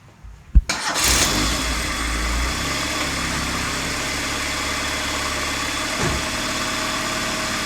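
A car engine cranks and fires up with a sharp burst, then settles into a steady, smooth idle for several seconds, close by.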